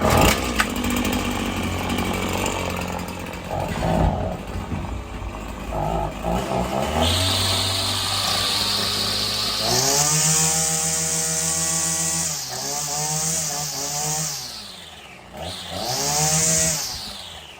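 A Husqvarna 525LST string trimmer's small two-stroke engine sputters to life, then revs up loud and close with a high buzzing whine that rises, dips and climbs again across several throttle blips, with no talking.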